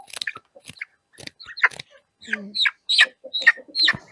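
Chickens in a poultry yard, with short clucks and chirps coming in scattered bursts, close and fairly loud. Some of the sounds may be pecking or feeding noises.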